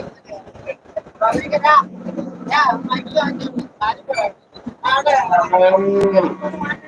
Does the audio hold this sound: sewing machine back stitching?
no